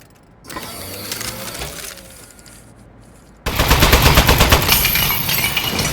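Turret gunfire in the video game Aperture Desk Job: rapid, loud mechanical bursts of automatic fire that erupt suddenly after a quieter whirring stretch and keep rattling steadily to the end.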